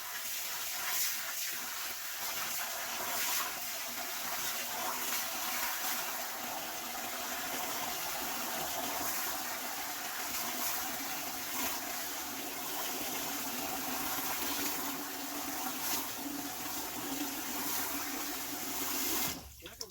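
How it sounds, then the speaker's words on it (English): Rock dust stirred by hand into a container of water filled about halfway, a faint, steady swishing and sloshing that runs throughout, with some quiet background noise. "I'm going to cheat a little bit and use my hand to make sure it's all stirred up"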